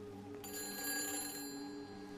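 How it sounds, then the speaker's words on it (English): A telephone rings in the video game Everybody's Gone To The Rapture, a clear electronic ring that starts abruptly and holds steady over a low ambient hum. "So, I hear a phone."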